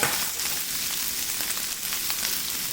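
Day-old refrigerated rice fries in a pan over high heat for Cantonese special fried rice, giving a steady, dense sizzle with faint scraping crackles throughout, close and continuous with no talking.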